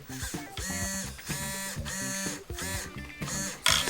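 RC crawler steering servo whirring in repeated short bursts, several quick buzzy movements back and forth with brief pauses between, close and fairly loud.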